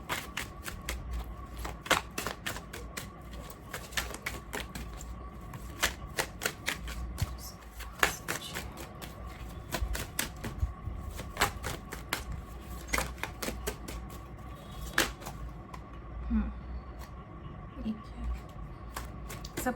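Tarot cards being shuffled and drawn: a rapid series of close, crisp card snaps and slides at an irregular rhythm, while a person speaks throughout.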